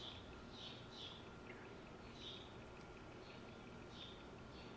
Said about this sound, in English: I know there are birds outside